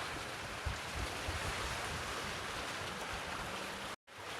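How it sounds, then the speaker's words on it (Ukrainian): Lake Garda water laps against a waterfront embankment in Garda, Italy, making a steady, broad wash of rippling water with some wind noise that cuts off briefly near the end. "Як стать самі бесідки, то так хорошо чутно шум води"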